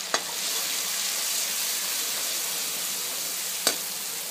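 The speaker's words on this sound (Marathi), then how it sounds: "हळदची पेस्ट तेलामध्ये घालायची, थोडीशी तेलावर परतवून घ्यायची आहे" A red chili, spice and turmeric paste fries gently in oil with a soft, even sizzle, broken by two sharp utensil taps near the start and end.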